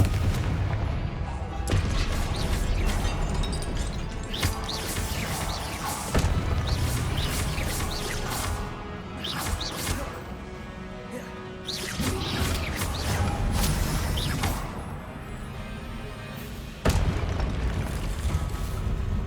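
Repeated booming blasts from the Confringo spell in a Harry Potter video game, loud crashing explosions following one another with little pause over a dense, continuous rumble.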